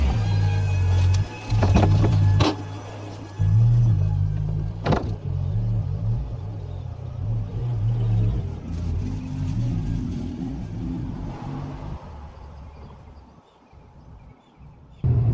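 A car drives along and pulls up to a house, its engine a steady low drone with a few clicks and thumps, easing off and quieting toward the end.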